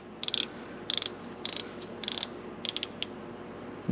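Ratchet clicking while loosening a bolt on the automatic transmission kickdown of a Jeep TJ Wrangler, short bursts of rapid pawl clicks repeated about eight times, close and crisp with no talk.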